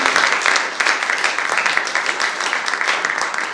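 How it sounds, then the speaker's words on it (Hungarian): An audience at a youth centre event in Karcag applauds two young local dancers, a dense, steady wash of many hands clapping that stays loud and continuous throughout. "úgyhogy még egy tapsot szerintem"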